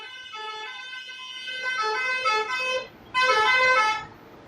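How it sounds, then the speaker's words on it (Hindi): Vehicle horn honking in sustained harmonic blasts, a longer tone followed by a second loud burst after a short break, with no talk over it. "बड़ा अच्छा हॉर्न बजा रहा है ना ये।"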